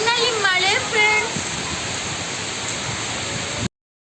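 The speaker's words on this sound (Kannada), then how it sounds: "ಗದಗ್ನಲ್ಲಿ ಮಳೆ ಫ್ರೆಂಡ್ಸ್" Steady rain pours in Gadag, North Karnataka, a constant close hiss of falling water. A voice talks briefly over it at the start before the wash runs on alone and cuts off abruptly.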